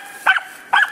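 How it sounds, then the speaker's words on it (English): Giant Schnauzers bark during rough play, two sharp, loud close barks about half a second apart with no talking. "This is what happens on almost daily basis when these dogs see each other."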